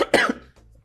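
A man coughs in a couple of sharp, harsh bursts close to the microphone, followed by faint throat sounds.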